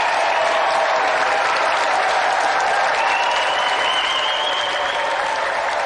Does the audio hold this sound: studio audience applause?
yes